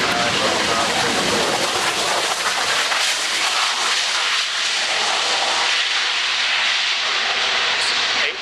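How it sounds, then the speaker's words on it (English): A fixed-wing aircraft roars past at the Fairford air show, a loud, continuous broadband jet rush with steady hiss that swells and fades slightly, heard in the open with no clear talk. "it's an 18-ton aircraft"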